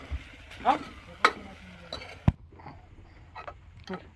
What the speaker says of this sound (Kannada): ಅರಿಶಿಣ ಪುಡಿ ಹಾಕ್ಕೊಂಡು ಅದನ್ನ ಸ್ವಲ್ಪ ಫ್ರೈ ಮಾಡ್ಕೋಬೇಕು